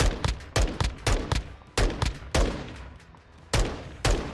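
Rapid bursts of gunfire at the firing range in Modern Warfare II, a series of sharp loud reports in quick groups with short gaps between volleys, no talking.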